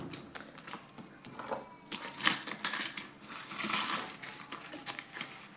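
Euro coins counted by hand into a Christmas savings envelope, repeated close metallic clinks and jingles in bursts that grow busier toward the middle, with no talking.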